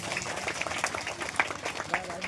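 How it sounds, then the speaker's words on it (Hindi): A crowd claps loudly at a prayer and healing program, the claps uneven and overlapping with a few sharper hits standing out, while voices carry on underneath. "अब जोरदार ताली बजा देंगे"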